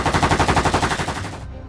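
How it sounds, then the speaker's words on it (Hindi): An AK-47 rifle fires a rapid automatic burst of about a dozen loud, evenly spaced shots that cut off sharply, with no talk. "जवाब में एक जवान ने भी AK-47 से फायर कर दिया।"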